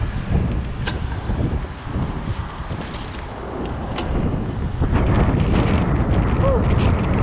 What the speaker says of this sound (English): A lot of wind too.